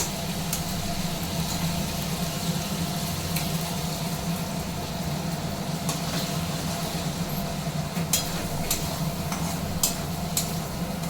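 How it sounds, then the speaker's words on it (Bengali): An egg cooking into a chicken paratha filling in a hot pan, a continuous dense sizzle and stir with occasional sharp ticks of a spatula, steady and close, no talking. "এবার আমি একটা ডিম দিয়ে দেব"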